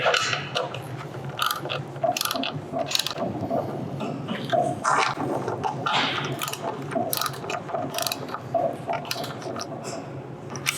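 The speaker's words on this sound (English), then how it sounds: "Then we can torque them down to 12 foot-pounds." A wrench tightens assembly bolts to 12 foot-pounds with close, uneven bursts of ratcheting clicks and mechanical rattling, repeated over several strokes.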